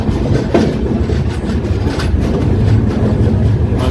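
The Jhelum Express rolls into Bhusawal Junction, heard from inside as a loud, steady low rumble of wheels and carriages with faint rhythmic clatter on the track.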